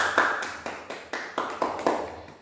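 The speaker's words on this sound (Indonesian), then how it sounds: "Mari kita beri tepuk tangan untuk Risna dan Anur Rohman" A primary-school class claps for two students after their answers, giving about nine sharp claps in a steady, evenly spaced rhythm, each fading quickly before the next, with no talking.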